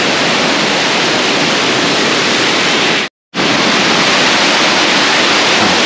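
Rushing water of Engkanto Falls in Libmanan, Camarines Sur, a loud, steady broadband roar filling the scene, broken by a brief gap of silence partway through before the torrent resumes at full strength.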